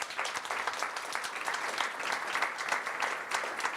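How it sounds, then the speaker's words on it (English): An audience at a policy roundtable applauds, a dense, steady patter of many hands clapping, moderately loud, with no one speaking over it. "to give a great applause first for Kristina Alexandersson"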